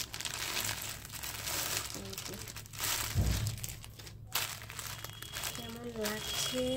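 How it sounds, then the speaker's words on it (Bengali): A crinkly plastic packet is torn open and crumpled, giving soft, close rustling and crackling over several seconds while a person talks quietly. "এই যে প্যাকেটটা খুলছি, প্যাকেটে কি জিনিস আছে দেখি।"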